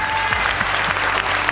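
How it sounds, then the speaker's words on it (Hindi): A hall audience bursts into steady, dense applause for two mentors at a celebration, with many hands clapping close and continuously throughout, without any voices speaking over it. "एक बार जोरदार तालियां इनके लिए"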